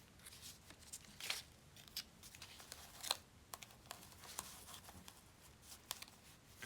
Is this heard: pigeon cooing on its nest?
no